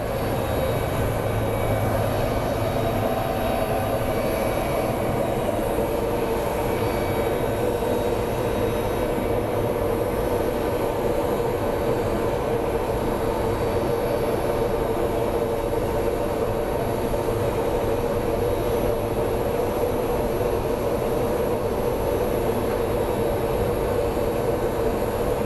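A FedEx Boeing 777 comes in to land at Phoenix Sky Harbor International Airport, its engines a steady, broad roar with a constant high whine, loud and unbroken throughout with no talk.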